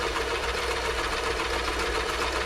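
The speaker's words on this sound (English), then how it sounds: "This one here is a zigzag, but it stitches across the zigzag." A Toyota Model 2640 sewing machine runs steadily while sewing a zigzag stitch, a close, continuous whirring hum with fast mechanical clatter and no talking.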